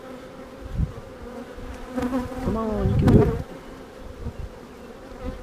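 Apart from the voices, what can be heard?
honeybee hive buzzing as a drone bee emerges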